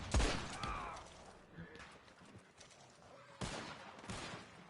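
Bursts of gunfire in a video game, sharp cracks and rattling volleys at moderate distance with quieter mechanical clatter between, arriving in a few separate clusters with no talk over them.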